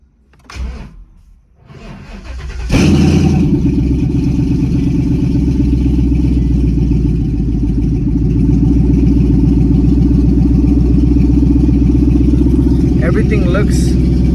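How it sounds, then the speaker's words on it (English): A nitrous-equipped S550 Ford Mustang GT running on E85 cranks briefly and fires up, then settles into a steady, loud, rumbling idle close by, with a short burst of talk near the end. "So I'm about to start it."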